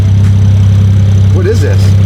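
A widebody 2020 Toyota Supra idles loud and raw with its exhaust blown off, a constant low drone under a brief burst of voices.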